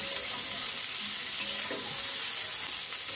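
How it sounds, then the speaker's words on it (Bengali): Cauliflower florets fry in a pan, giving a steady close sizzle with the soft scrape of occasional stirring, no talk. "ফুলকপিটা খুব ভালো করে ভাজতে হবে।"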